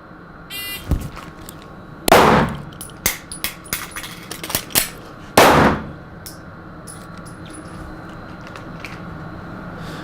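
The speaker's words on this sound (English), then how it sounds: "okay, 1 shot, reload 1 shot, and then we'll do a tactical magazine change" Live-fire pistol shots on a defensive training range, two sharp loud reports several seconds apart, with clattering magazine change and handling clicks between them.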